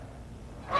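A single loud Canada goose honk rings out near the end, after a quiet stretch of low background rumble. The geese have settled permanently in Western Washington.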